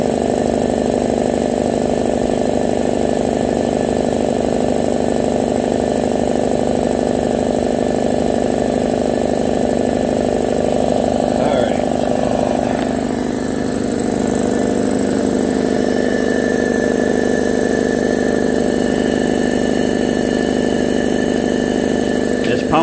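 Replacement air compressor pump bought on eBay runs steadily on a homemade compressor setup, a loud, continuous mechanical drone with a constant pitch throughout.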